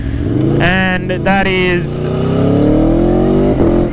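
Aprilia Tuono 1100 Factory V4 motorcycle running through quick-shifted gear changes with throttle blips, the loud engine note rising in stepped pulls and then holding a long sustained drone, under a man's speech.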